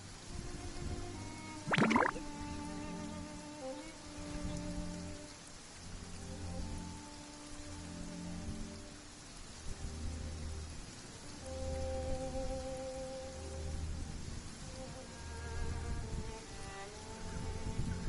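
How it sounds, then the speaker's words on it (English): Steady rain in the video game Genshin Impact patters softly on a surface, with a faint musical tone underneath and one brief sharp burst early on. "Oh, I don't like the rain."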